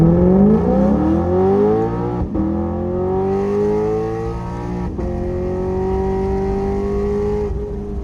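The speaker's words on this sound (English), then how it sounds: "2015 Lexus Rcf, straight up street dig, no prep at all." A 2015 Lexus RC F V8 launching hard in an unprepped street drag race, a loud continuous engine roar climbing through the revs, with brief dips at gear changes and no speech.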